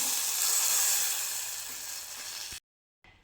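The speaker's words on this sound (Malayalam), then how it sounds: "ഞാൻ കടു വറുത്ത് അത് ഇതിലേക്ക് ഒഴിച്ചു കൊടുക്കുകയാണ്" Fried mustard seed tempering is poured into a drumstick and tomato curry, giving a loud, steady sizzle and hiss. It fades slightly, then cuts off abruptly and returns faintly at the end.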